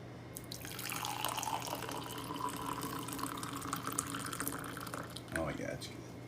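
Brewed espresso from a drip coffee maker is poured into a cup, a close continuous trickling splash lasting several seconds before a brief clunk near the end.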